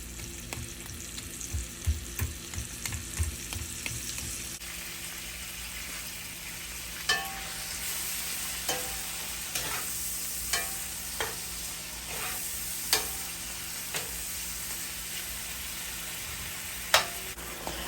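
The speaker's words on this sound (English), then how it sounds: "you need to dump out most of that oil in order to fry up the peppers, onions, and tomatoes" Peppers, onions and tomatoes fry steadily in a skillet with a soft, continuous sizzle, broken by occasional light clinks and taps of a utensil.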